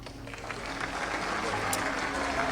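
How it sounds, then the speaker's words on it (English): A crowd in a movie claps steadily and continuously, a dense wash of applause at moderate volume. "now everyone's clapping"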